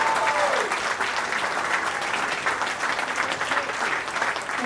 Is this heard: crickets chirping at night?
no